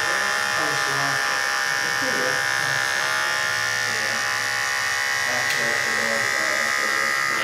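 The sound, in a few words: electric hair clippers cutting a skin fade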